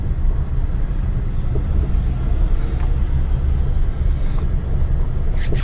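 A car engine drones at low, steady revs as the vehicle creeps forward slowly during a driving lesson, a continuous near rumble with no clear rise in pitch.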